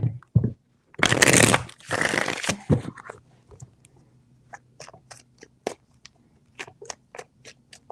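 A deck of tarot cards is shuffled up close, starting with two loud riffling bursts and then settling into a scattered series of soft card taps and flicks.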